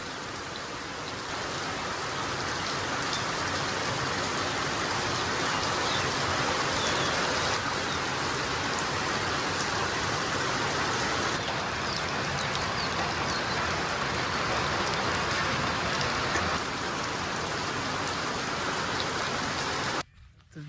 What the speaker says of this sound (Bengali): আর অনেক বৃষ্টি নামছে আজকে আবার